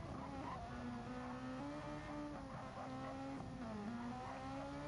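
Race cars roar around Circuit de Spa-Francorchamps in a racing video game, a steady droning engine note rising and falling with gear changes, heard alone at moderate level.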